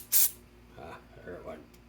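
A short, sharp blast of compressed air hisses once for a fraction of a second while working on a seized 1979 Vespa P200E Piaggio engine, followed by someone talking.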